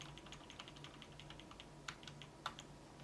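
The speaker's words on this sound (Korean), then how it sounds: "이 화면에서 키보드 방향키 아래쪽을 눌러 내려와 주세요." Computer keyboard keys being tapped while adjusting settings in a motherboard BIOS screen, a sparse run of soft, close clicks with two sharper presses near the end.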